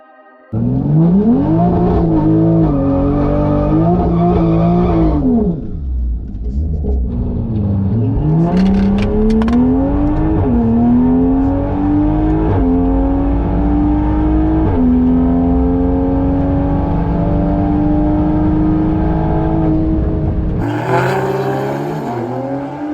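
A Toyota Supra launching hard down a quarter-mile drag strip, engine climbing through several loud, rising gear pulls, each followed by a brief dip at the shift, close and dominant with no talking.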